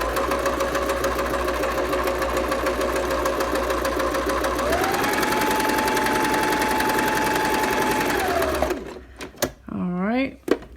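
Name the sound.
sewing machine stitching along top edge of scarf face mask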